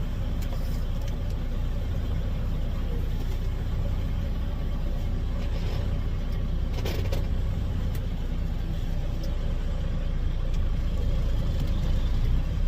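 A dump truck hauling 1.5 inch crushed driveway stone rolls into a quarry, its engine a steady broadband rumble that stays loud and constant throughout, with a brief rattle midway and no talk.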